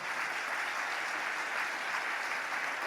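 A church congregation applauds the Lord in a steady, dense wash of clapping that keeps an even level throughout, heard from within the room, with no talking over it.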